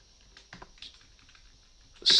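Typing on a computer keyboard, a few soft scattered key taps close by, ending in a louder clack.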